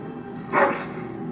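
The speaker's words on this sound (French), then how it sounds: "Votre chien est répugnant." A single short dog bark from the video game Dragon Age Origins, a brief mid-pitched yelp rising briefly above a quiet steady background.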